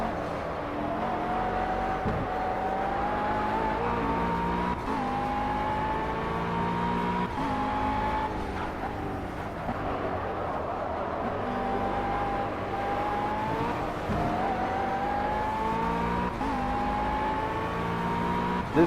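A race car in Project CARS screams through a long stretch near the finish of a 125-mile race in Germany, its engine rising and falling in pitch through gear changes and corners, with no talk.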